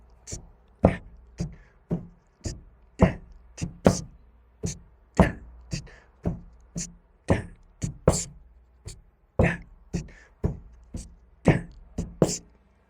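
A slower hi-hat pattern on a drum kit has the left hand lifting the hi-hat for a short open bark. Crisp, evenly spaced strokes sound close and fairly quiet, with light thumps underneath.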